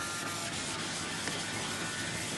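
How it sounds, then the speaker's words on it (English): Dense, continuous scratchy abrasion of sanding paint off an aircraft, loud and close with an even rasping texture throughout. "sanding the whole thing down"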